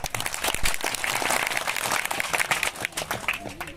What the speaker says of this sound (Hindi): आप खुद के लिए तालियां बजा दो एक बार जोरदार।